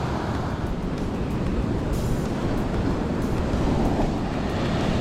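Sea waves break at Stockton Beach with high tide in, making a steady, loud wash of surf mixed with wind buffeting the microphone and no voices.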